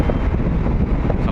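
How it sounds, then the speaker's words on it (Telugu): Strong, cold sea wind buffets the microphone on a ship sailing among the Andaman Islands, a loud, steady roar over a brief moment with no voices. "చల్లగా గాలి అయితే గట్టిగా వేస్తుంది."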